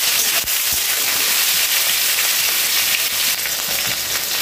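Boiled, drained taro stolons hitting hot oil in a pan give a loud, steady close-up sizzle with a few brief clatters of stirring.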